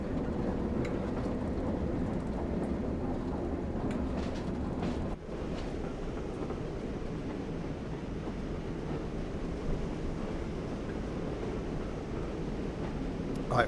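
Steady, dense rumble of a steam train running on the West Somerset Railway in Train Sim World 2, a continuous broadband roar with wind-like hiss and no distinct chuffs, close and even throughout with no voices.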